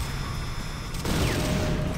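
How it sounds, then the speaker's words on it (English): Dense automatic gunfire in the video game C&C Renegade, aimed at the sides of an APC parked beside a buggy; a steady, loud rattle that swells and grows heavier partway through, with no talking. "Just shoot the sides of the APC next to the buggy."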